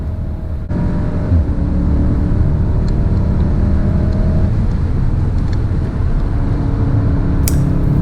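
Volkswagen Golf 7 R engine droning steadily at high revs inside the car on the Nürburgring, a continuous loud whirring hum with road noise and no voices.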